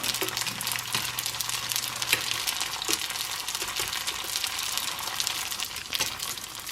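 Cheese-filled egg rolls fry in hot oil with a constant crackling sizzle, close and moderately loud, with occasional sharper pops and faint clinks of tongs.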